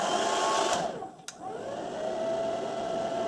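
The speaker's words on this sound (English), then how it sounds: "I'm going to turn on the hairdryer" A hair dryer runs with a steady whirring blow, cuts out briefly with a click, then starts again and keeps droning evenly, fairly close and alone.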